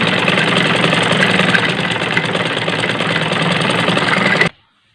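A sewing machine runs steadily, stitching a folded hem along the edge of a curtain; the motor's loud, even whir holds for about four and a half seconds and then stops abruptly.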